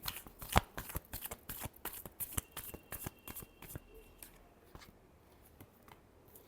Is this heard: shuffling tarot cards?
yes